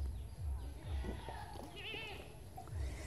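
Goats bleat on a goat and duck farm, a few wavering cries rising over background farm noise and soft thudding, with a person talking nearby.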